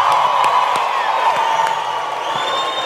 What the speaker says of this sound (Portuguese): Por favor, o aplauso para eles.